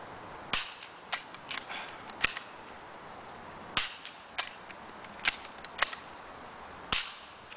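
Gunshots from a pistol fired at a shooting range, about ten sharp cracks in an irregular rhythm with short gaps, some pairs close together, loud and near with no talk.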